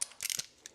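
A ratchet clicks in a short quick burst while loosening a bolt during a spark plug change on a BMW X7 M50i, close and brief, followed by one faint click.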